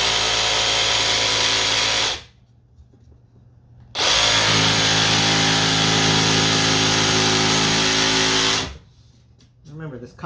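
A jigsaw cuts laminate flooring in two long, loud bursts of harsh, buzzing sawing separated by a short pause, ending with lighter scraping and handling sounds.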